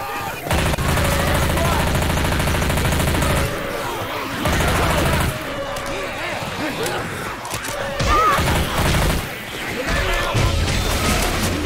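Heavy gunfire at zombies in Left 4 Dead 2, with loud sustained bursts and crashing impacts stopping and starting amid chaotic game noise, while voices shout over the shooting.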